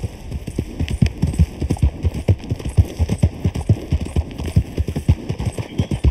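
Horse hooves clip-clop in a quick, uneven rhythm in the video game RedM, loud and close throughout, with a few sharp cracking hits among the steps and no speech.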